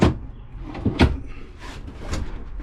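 Drawers beneath the sink in a rented camper trailer slide open and shut, giving a few close wooden knocks and thuds in quick succession with no talk.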